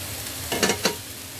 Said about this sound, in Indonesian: aku tumis dulu sampai airnya agak menyusut gitu